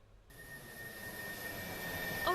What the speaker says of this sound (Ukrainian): Важкий транспортний російський літак іде на посадку в аеропорту китайського Ченчжоу.